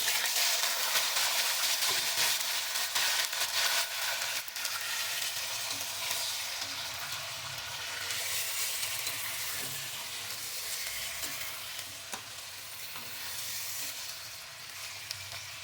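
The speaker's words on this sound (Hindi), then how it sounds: "जो हमने देखे हैं तमाम गरम मसाले हमने डाल देने हैं और थोड़ी देर इन्हें फ्राई करना है।" Whole garam masala spices fry in a pan for chicken shahi korma with a steady, close hissing sizzle and occasional stirring scrapes, continuous throughout with no talking.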